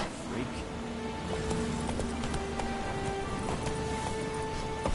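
Horse hooves clip-clop steadily as Roach moves through The Witcher 3 game world, layered over a continuous bed of ambient game sound with sustained musical tones.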